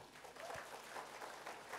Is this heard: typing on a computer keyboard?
no